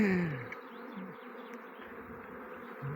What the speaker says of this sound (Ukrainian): бджоли не туди полізли, бачите